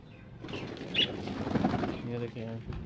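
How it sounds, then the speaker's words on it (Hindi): Released pigeons flap their wings in short fluttering bursts close by, with soft cooing and bird sounds mixed in and a voice murmuring underneath. "हमने आज कबूतरों को बाहर छोड़ा।"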